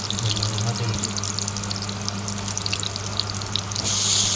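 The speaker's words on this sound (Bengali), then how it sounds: "পেঁয়াজ কুচি দেওয়ার পর একটু নাড়াচাড়া করতে হবে পেঁয়াজগুলো একটু ভাজার জন্য।" Chopped onions fry in hot oil in a pan, giving a steady, crackling sizzle that stays fairly even and grows a bit louder toward the end.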